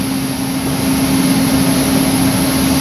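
Heater running beside a frozen snowmobile engine on a Polaris Magnum, giving a loud, steady roar with a constant hum, close by and without talk.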